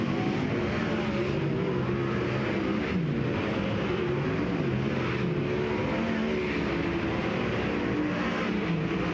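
Race cars of the Kubota High Limit Racing series roar off at the green flag at Placerville Speedway, a dense, loud, continuous wall of engine noise with revving swells as the field accelerates together, no talk over it.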